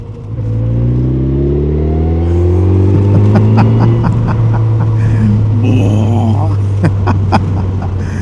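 A 2025 Kawasaki Z900 motorcycle engine revs up hard and close, its pitch climbing through one long pull and then holding high, with a rider talking over it.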